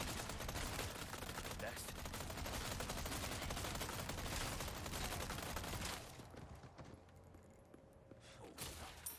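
Dense, continuous gunfire from Resident Evil 4 Remake fills the first six seconds, loud and rapid, then drops away to quieter game ambience with a few scattered impacts.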